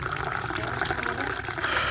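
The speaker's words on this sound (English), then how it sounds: "They rinse their mouths and wash their faces." Running water splashes steadily as people rinse their mouths and wash their faces at a sink, a soft continuous trickle and slosh heard close by at low level.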